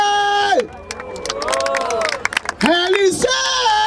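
Crowd at a freestyle rap battle in Barueri, São Paulo, cheering and whooping, mixed with loud shouting voices close by; the noise swells, dips briefly, then surges again near the end.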